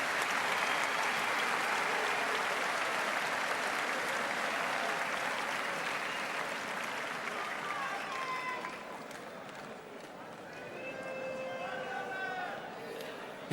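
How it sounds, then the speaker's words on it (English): An arena crowd in Mannheim applauds two boxers after a 12-round world middleweight title fight, a broad, steady wash of clapping and cheering that dips briefly, then swells again. An announcer's voice is faintly heard near the end. "how about a big round of applause for these two warriors?"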